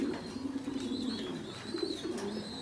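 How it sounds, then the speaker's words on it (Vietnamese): Pigeons on a farm coo softly in low repeated murmurs, with faint high chirps above and quiet background noise, no talk. "Đây chim bồ câu"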